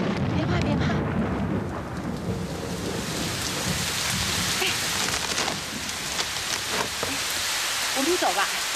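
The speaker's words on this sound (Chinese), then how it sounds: "那是打雷，打雷而已。" Heavy rain pours steadily during a thunderstorm while thunder rumbles low and long beneath it, loud and close, with voices speaking intermittently over the downpour.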